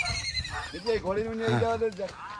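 A dancing mare gives a close, wavering whinny that rises and falls over about a second, with people talking around it.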